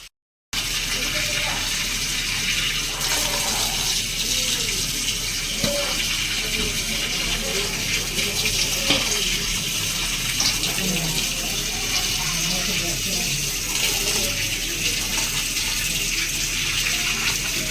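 Running tap water washes fish during cleaning, a steady gushing splash that continues nearly the whole time, loud and close, with a voice talking over it in places.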